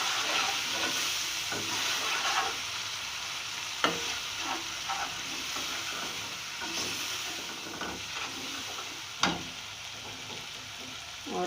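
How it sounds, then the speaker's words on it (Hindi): Powdered spices for black chana chaat roast in a pan, a soft continuous sizzle with occasional scraping stirs and small clacks. "अब ये पाउडर मसाले इसमें जाएंगे और इन्हें भी मैं बहुत अच्छी तरह से भून लूँगी"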